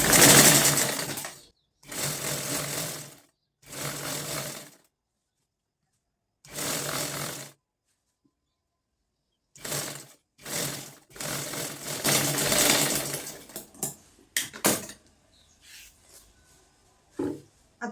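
Sewing machine stitching a kurti seam, running in several short bursts of steady mechanical whirring separated by pauses, with quicker stop-start stitching toward the end.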